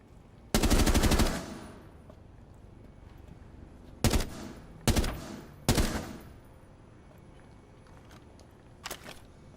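Gunfire in Rainbow Six Siege: a sustained automatic burst opens, then three sharp separate shots follow at a steady spacing and one fainter shot near the end, loud and alone with no talk.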